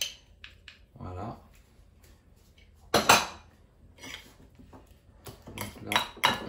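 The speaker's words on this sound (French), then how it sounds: "Donc là, on mélange bien." Cabbage guacamole sandwich filling is mixed in a bowl with a utensil, giving close, irregular bursts of clinking and scraping with quiet gaps between them.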